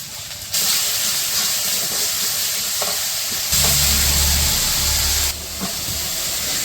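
Spices sautéing in hot oil for a village-style fish curry, a steady close sizzle and hiss throughout with brief stirring scrapes and a low rumbling swell in the middle.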